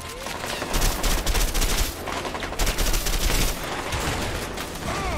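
Dense, loud bursts of automatic and rapid gunfire from a shooter video game set in Mexico crackle almost without pause, with overlapping volleys close and continuous throughout.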